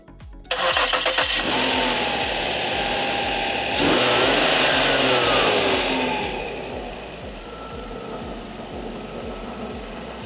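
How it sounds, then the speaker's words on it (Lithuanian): A Ford Flex engine cranks and catches, revs briefly, then settles into a steady idle that quiets somewhat toward the end. "Ką gražiai užsikūrė, dirba tikrai labai gražiai variklis"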